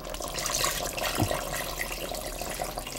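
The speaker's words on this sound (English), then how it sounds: "now I gotta add more water" Tap water runs steadily into a cooking pot while curried goat is being made, a continuous broadband splashing stream that stays fairly even throughout, with no talking.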